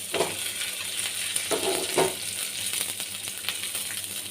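Dried red chillies fry in hot oil in a pan for pirandai chutney, a continuous close sizzle with a few stirring scrapes and clinks.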